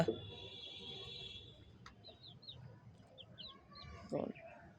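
Pet hens kept in a yard give a few soft clucks and short chirping calls against faint ambient noise, with a brief thump near the end.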